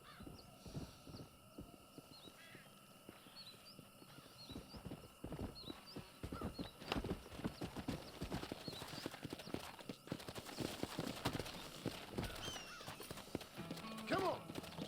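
Horse hooves clip-clopping in the Red Dead Redemption video game, a steady rhythmic trot under occasional whinnies and bird calls, with a voice speaking softly over it.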